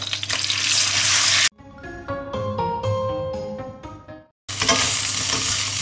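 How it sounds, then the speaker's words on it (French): Thin strips of beef rump steak sautéing in a hot pan, a loud close sizzle that breaks off for a few seconds of clinking and stirring, then returns at full hiss. "on va faire sauter la viande"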